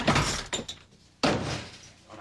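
Two heavy thuds of a door banging shut, about a second apart, close and loud with a short rumbling decay.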